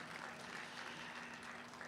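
An audience at a mushaira poetry event in Bhopal applauds, a faint, even patter of clapping heard from a distance across the short clip.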